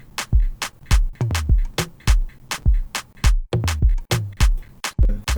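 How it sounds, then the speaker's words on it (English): A looping Afro-style drum pattern plays back alone, with a punchy low kick and sharp percussive hits in a steady, syncopated groove, repeating with a short dropout near the middle. "so I want to export this drum pattern and I want to save it as a drum kit"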